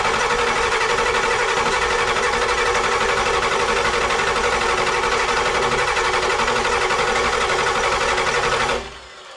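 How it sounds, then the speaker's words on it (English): A Ford IDI diesel engine in an OBS F350 cranks over fast on a high-torque starter with new battery cables, a steady loud, dense whirring churn lasting several seconds before cutting off abruptly. "Now this IDI is turning over faster than I've ever heard any IDI before"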